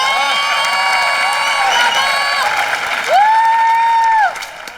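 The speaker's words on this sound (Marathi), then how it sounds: "जोरदार टाळ्या झाल्या पाहिजेत अरुण कदम यांच्या आसाठी" A studio audience at a Marathi comedy show breaks into loud clapping and cheering for Arun Kadam, with crowd noise and a voice calling out over the applause.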